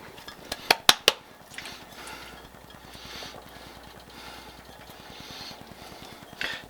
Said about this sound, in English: we're gonna go ahead and add 2 cups of shredded cheese that we did earlier